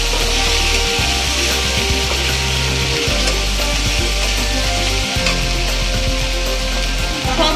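Spices with ginger paste fry in a pan for a tilapia curry, giving a steady close sizzle with occasional scraping and stirring of a spatula, no voices.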